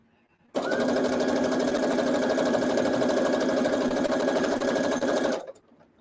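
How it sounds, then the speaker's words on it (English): A sewing machine runs steadily for about five seconds, a dense continuous whirring buzz close by, then stops. "Maybe it's my sewing machine."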